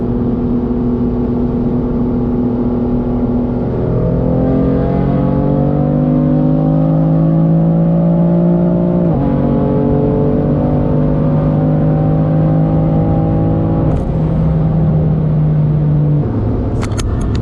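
A car engine revs and accelerates with rising pitch through several gear shifts, loud and close, humming steadily between pulls.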